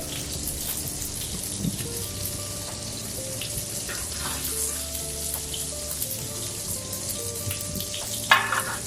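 Spinach fries in olive oil over high heat, giving a steady, close crackling sizzle with fine spattering pops throughout and a brief louder snap near the end.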